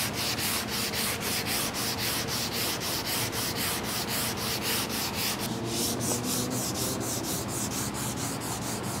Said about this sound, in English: Then I'll take my 180 and I can extend the sanding a little bit more.